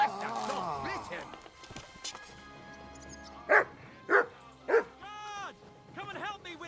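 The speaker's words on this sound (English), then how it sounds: "Kutyák!" Dogs bark in the medieval video game Kingdom Come: Deliverance 2, three sharp, loud barks spaced about half a second apart, following a voice at the start amid combat sounds.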